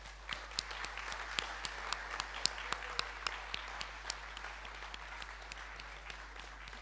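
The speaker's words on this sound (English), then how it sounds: "you all deserve one last round of applause" A school sports and cultural prizegiving audience gives a final round of applause: steady, moderately distant clapping from a large crowd, sustained and fairly even throughout.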